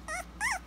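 A two-week-old puppy gives two short, high whimpers in quick succession, close and clear with nothing else over them.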